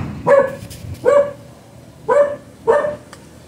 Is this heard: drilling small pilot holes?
no